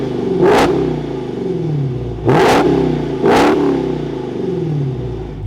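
A 2022 Dodge Challenger SRT Super Stock V8 fires up and is revved three times, each sharp blip rising and falling back to a loud, lumpy idle close to the car.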